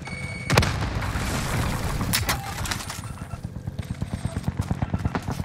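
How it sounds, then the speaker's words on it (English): In a shooter video game, a sharp grenade blast goes off near the start, followed by scattered shots and then a steady, rapid burst of gunfire that grows more regular toward the end. "Grenade out."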